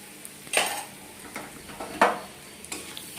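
Spices, sugar and turmeric being stirred in oil in a pan for a potato and pointed gourd curry, with a few distinct metallic scrapes and clinks of the spatula against the pan over a low sizzle.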